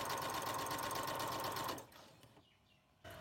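A sewing machine runs a continuous straight stitch through fabric for a tote bag, a steady, even mechanical whir that stops after about two seconds, leaving near silence before a brief restart.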